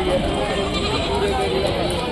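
Sheep bleat amid a busy livestock market at Rajarampalli, the calls rising over a steady wash of crowd noise and close-by people talking throughout.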